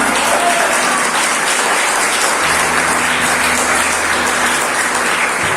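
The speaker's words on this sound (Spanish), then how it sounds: "aplauda al Señor" A church congregation applauds during a Sunday morning service, a loud, dense and steady wash of clapping that fills the whole stretch, with a faint hum beneath.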